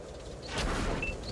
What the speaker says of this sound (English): artillery is going to shoot and actually miss him